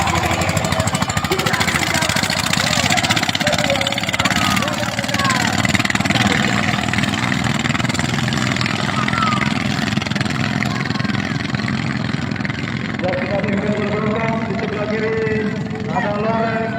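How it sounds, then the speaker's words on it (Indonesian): Motorboat engines roar during a traditional Bajo boat race, a loud buzzing, rattling drone that holds steady throughout, with voices talking and calling over it. "inilah salah satu cuplikan perlombaan balap perahu tersebut"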